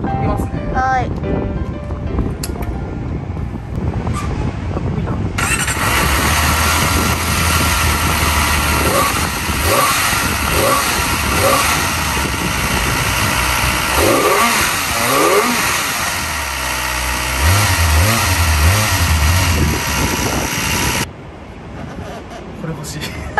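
A Kawasaki ZX-25R, a 250 cc four-cylinder sport motorcycle, idles and revs at a dealership, holding a loud, sustained engine drone with rising and falling pitch for most of the stretch while people talk nearby.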